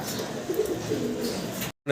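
A breeding pair of pigeons gives low, soft coos close by over a faint background hum, and the sound cuts off abruptly near the end.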